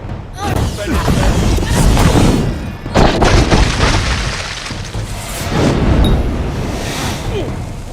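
Explosion effects in the Kingdoms of Amalur video game during a fight with sorcerers in the Red Sands of Alserund: loud, rumbling booms and crashing blasts that repeat over several seconds.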